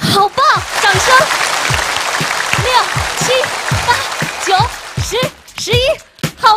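Applause from a studio audience at a Chinese variety show cheering a child's jump rope performance, clapping running throughout under lively, excited speech from a host, with intermittent thumps.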